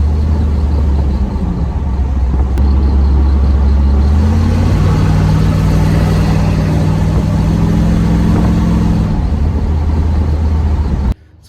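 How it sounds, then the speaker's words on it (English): A 1983 Trans Am engine with a Holley 4175 carburetor runs close and loud, rumbling at idle before rising into a sustained higher rev and settling back, cutting off abruptly at the end. "it runs and drives with the 4175 on there. It's just a little boggy."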